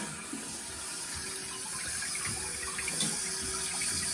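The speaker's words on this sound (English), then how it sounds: "Before that, let's test it out, make sure we don't have any leaks. So we're gonna turn the water on." Water rushes steadily into a newly installed Kohler toilet after the supply is turned on, a continuous close filling hiss and gurgle with no talking.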